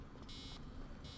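A device in the Assassin's Creed Origins video game beeps in two long, steady high-pitched tones separated by a short gap, heard faintly over a low background rumble.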